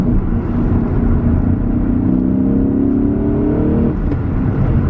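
BMW E39 M5 engine revving hard as the driver downshifts from fourth to third gear, a loud, steady roar with rising harmonics that swells then settles near the end, heard from inside the car with no talk.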